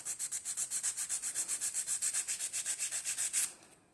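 Sandpaper rubbing steadily over wood, a fast even run of rhythmic back-and-forth rasping strokes, close and clear, stopping abruptly near the end.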